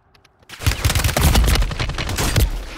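Dense bursts of rapid video game gunfire, a fusillade of loud, close shots with machine-gun-like rattles, starting abruptly after a short quiet moment and continuing steadily to the end.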